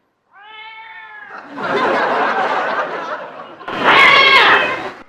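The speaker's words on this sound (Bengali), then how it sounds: "বিড়ালের দল ঝগড়া বাঁধিয়েছে।" Several cats squabble in a string of drawn-out meows and yowls, starting with a clear, rising cry, then a noisy tangle of growls and wails that swells louder toward the end.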